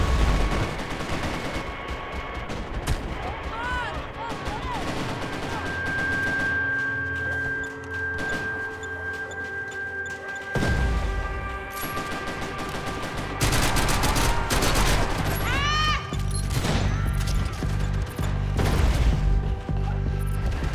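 Dense video-game gunfire from Max Payne 3 on Xbox 360 runs throughout: overlapping automatic bursts, single shots and heavy booms, loud and close, with no talking.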